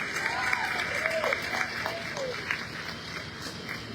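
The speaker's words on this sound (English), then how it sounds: "Let us give him an applause as he comes to the right." Audience applauds a councilman at a Martin Luther King Day event, steady moderate clapping with murmuring voices and a whistle-like tone rising and falling over it.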